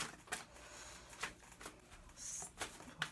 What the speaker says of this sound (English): Let's continue shuffling.